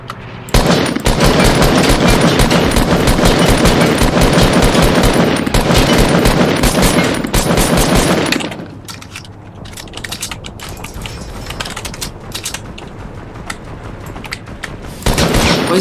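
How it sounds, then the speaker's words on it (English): Dense, loud automatic gunfire from the Fortnite battle royale game rattles continuously for about eight seconds, then drops to quieter scattered shots and game noise before a final loud burst. "Why is he still shooting at him?"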